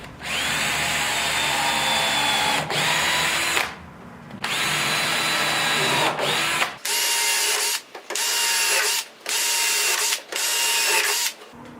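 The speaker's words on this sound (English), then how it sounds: "Now, being a hardwood, we want to pre-drill again." A power drill pre-drilling hardwood for a butcher block workbench whirs in several bursts, stopping and starting with short pauses between runs, loud and close.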